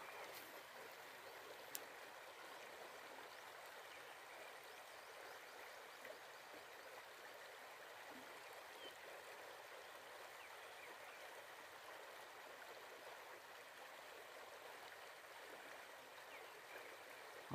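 A freshwater river flows steadily past a fishing spot, a soft continuous watery hiss with no voices and a few faint ticks over it.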